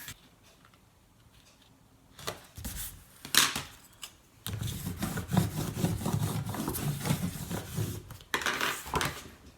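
A ScanNCut cutting machine unloads its cutting mat, giving a quiet start, then scattered plastic clicks and knocks, and a longer stretch of rubbing and motorized scraping close by, ending with another burst of handling noise.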